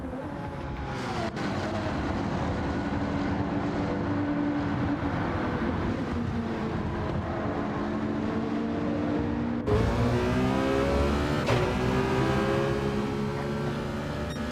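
A GT race car's engine in a racing game as it pulls out of the pit, a steady loud drone with rising pitch sweeps as it accelerates and shifts gears, heard alone.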